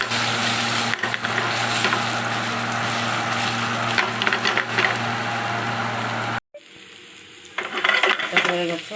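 Suji (semolina) pakode fry in hot oil with a loud, dense, continuous sizzle and crackle. The sizzle cuts off abruptly, then returns softer with scattered pops and light clatter.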